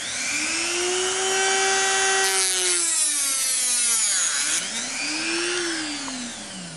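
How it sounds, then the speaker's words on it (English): A plastic pen tube being cut to length with a heated or rotary tool while making a charging handle for a Systema PTW airsoft rifle; a loud whining, buzzing tone rises and falls in pitch and runs continuously with no speech. "So what we're going to do is cut it off right here and make this pen about the same length."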